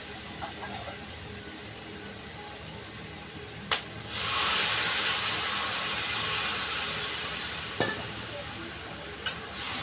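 Loud sizzling hiss bursts up as water hits okra frying in a hot pan, then slowly fades, with a few sharp clinks of a utensil before and after.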